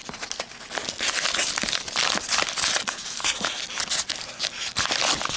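A paper envelope being cut open, with close, busy crinkling and snipping of paper running steadily throughout, no voices.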